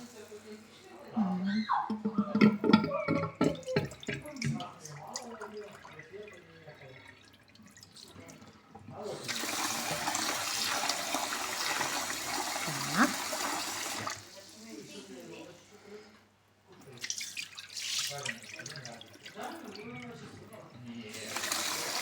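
A tap runs with a steady rushing stream in two separate bursts while trout roe is rinsed, between stretches of close speech and light splashing.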